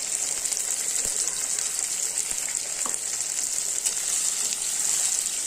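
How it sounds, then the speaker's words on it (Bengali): Small potatoes and chopped tomato frying in a pan, a continuous loud hissing sizzle with an occasional faint knock of a utensil, no talking. "চলো এটা দিয়ে অল্প ভাজা করব"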